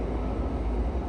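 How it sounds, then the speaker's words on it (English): A train passes beside the Menai Strait, a short, loud, low rumbling roll of wheels close by with no voices. "And here comes the train."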